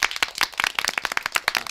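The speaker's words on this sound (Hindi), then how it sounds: "बजाओ ताली" A group of schoolchildren clapping hands in a classroom, a fast, uneven burst of many sharp claps that carries on steadily through the whole moment, close and fairly loud.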